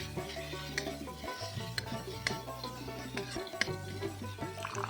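A spoon scrapes and stirs spice masala frying in a pan for Bengali black pomfret curry, with soft sizzling and repeated clinks against the pan, quiet and close.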